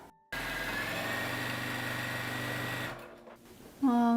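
A Juki TL 2010Q sewing machine runs fast and steady for nearly three seconds, a continuous high-speed whirring hum, then slows and stops, followed by a brief clunk and a voice starting to speak.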